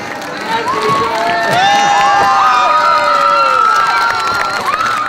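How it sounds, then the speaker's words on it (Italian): A large crowd in Treviso cheers and shouts in welcome for actress Virna Lisi, loud continuous whoops and excited calls, with children's voices rising above the din. "accolta da un vero bagno di folla"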